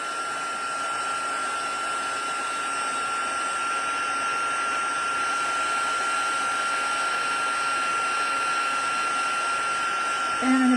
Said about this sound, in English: Right now we're just heating up all the powder.